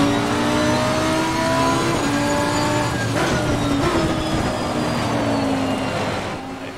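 A Lamborghini race car in Assetto Corsa Competizione, racing online in the rain, slides under braking. Its engine drones loudly and continuously as the revs rise and fall with gear changes.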